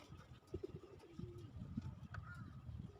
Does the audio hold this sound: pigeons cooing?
yes